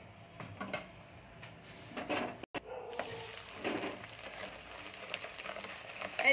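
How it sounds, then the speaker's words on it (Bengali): A homemade snack frying in hot oil, crackling and popping like puffed rice, with irregular sizzling bursts, a brief silent gap partway through and some clatter, close and fairly faint. "এই দেখুন আমি এটাতে ঢেলে দিচ্ছি, এই দেখুন কত সুন্দর আওয়াজ হচ্ছে মুড়ির মতো"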